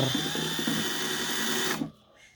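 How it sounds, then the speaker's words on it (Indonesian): A power drill bores a hole into the bottom of a used plastic jerrycan, a steady close whine for nearly two seconds that then stops abruptly. "Lalu bagian bawahnya kita bor dengan ukuran lubang sebesar"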